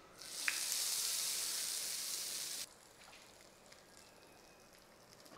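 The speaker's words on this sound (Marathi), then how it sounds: "आता ही फोडणी चटणीवर होतो" Hot tempering of hing, curry leaves and dried red chili poured over coconut chutney for Udupi-style idli, a loud burst of sizzling that cuts off abruptly after a couple of seconds, leaving a faint background hiss.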